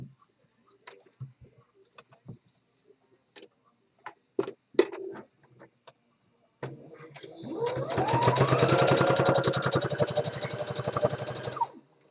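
A sewing machine runs a long steady burst of decorative top stitching on a covered open seam, close and fairly loud, after several seconds of scattered handling taps and clicks with no talk.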